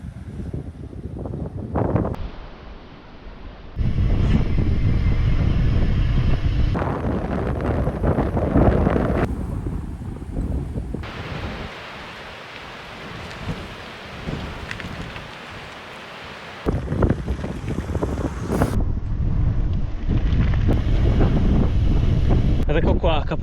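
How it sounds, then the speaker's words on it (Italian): Strong coastal wind at Capo Malfattano buffets the microphone in loud roaring gusts that cut in and out, dropping to quieter lulls between heavy blasts. "Peccato per questo vento che è veramente molto forte"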